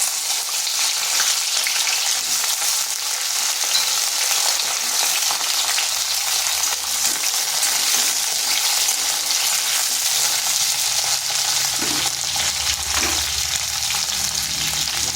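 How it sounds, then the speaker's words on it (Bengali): Potato and kakrol (teasel gourd) pieces frying in hot oil in a wok, a loud, dense and steady crackling sizzle that carries on without a break, with occasional soft knocks late on. "তেল ভালোভাবে গরম হয়ে গেছে, এরপর দিয়ে দিচ্ছি আলু আর কাঁকরোলগুলো।"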